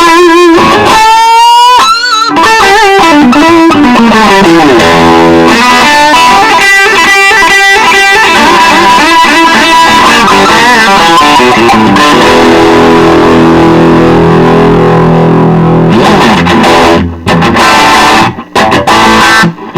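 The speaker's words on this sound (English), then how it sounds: "This is more like a classic overdrive right here." Electric guitar played through an Orange Crush 12L amp on its overdrive channel, a loud, crunchy run of chords and single notes with gritty sustain, ending in a few choppy stabs and brief pauses.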